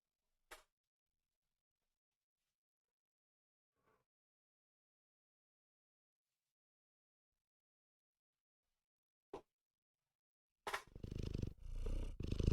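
A cat purrs loudly and close while being held, its rumbling steady through the final two seconds after a few brief bumps and near silence.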